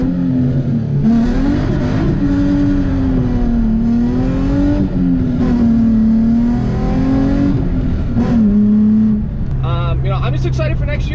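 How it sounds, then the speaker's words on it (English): A car with a welded differential and wide 275 rear tires drives through tight corners, its engine droning loudly and rising and falling in pitch as it accelerates and slows, with someone talking over it. "I just wanna show you guys some tighter corners and show you that it's okay to drive a welded diff"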